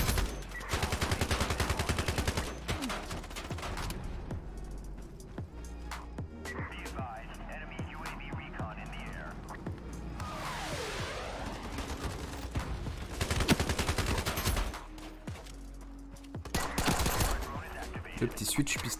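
Gunfire bursts in the online shooter Ironsight during a Search and Destroy match, loud rapid volleys in several clusters separated by quieter stretches of game noise, with a voice talking in between.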